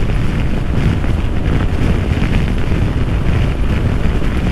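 Strong wind roars steadily across the microphone of a 2018 Honda PCX scooter on a bridge road, a loud, continuous buffeting rush with no pauses.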